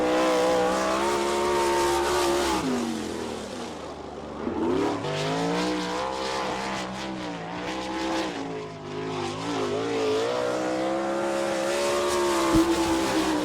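Sprint cars race around the Attica, Ohio dirt track in an All Star Circuit of Champions event, engines roaring loudly and continuously, rising and falling as they power through the laps.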